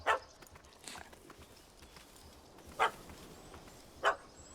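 A dog in the video game The Witcher 3 gives three sharp, separate barks, one at the start and two later, each fairly loud and close, over a quiet ambient game background with no talking.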